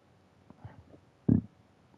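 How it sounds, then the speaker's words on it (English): A single short, low burp rumbles out close and fairly loud after a few faint throaty sounds, then quiet follows. "that was a bit of a burp"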